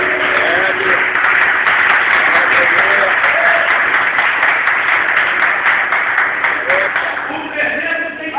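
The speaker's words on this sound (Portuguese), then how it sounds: "Aplaude Jesus aqui." A church congregation claps continuously with a dense, lively patter while a pastor speaks over it, the clapping thinning slightly near the end.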